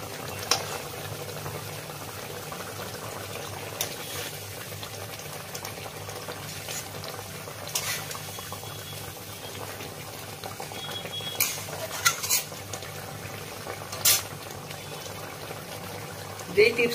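Fish pieces are turned in a mustard paste curry simmering in a pan, with a faint steady bubbling and occasional soft scrapes and clinks of a utensil. No one speaks.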